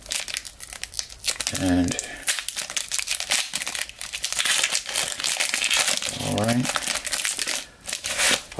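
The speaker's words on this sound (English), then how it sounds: "Let's rip them open, see what we got." Foil Panini Chronicles basketball card packs crinkle and tear open repeatedly, close and loud, with crumpling wrapper noise running under a man's speech for most of the clip.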